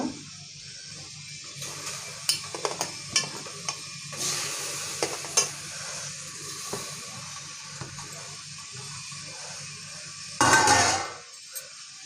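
Two large chopped tomatoes go into a spiced pan for Telangana-style pappucharu and get stirred, with a low, steady sizzle, scattered close spoon clicks and scrapes, and a sharp, loud sizzling burst near the end.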